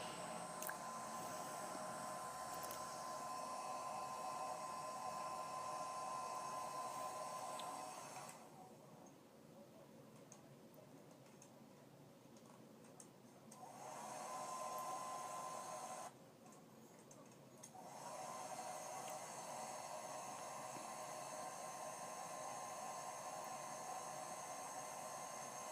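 A heat gun's steady whooshing roar of blown hot air runs close and loud, cutting out briefly twice before resuming, while melting crayons.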